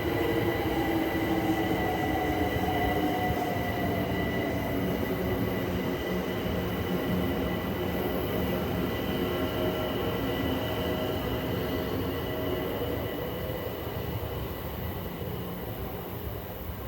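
A London Overground train rolls steadily through a station site without stopping, its continuous rail rumble and wheel noise holding loud and close, with a faint squeal of wheels and a long tonal drone easing slightly toward the end.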